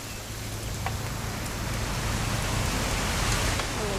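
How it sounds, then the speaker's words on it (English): Steady rain falls throughout a scene in the video game What Remains of Edith Finch, an even, dense hiss of drops with no other sounds. "It's gonna rain the whole weekend,"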